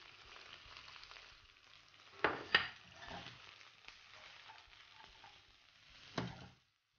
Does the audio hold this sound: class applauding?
no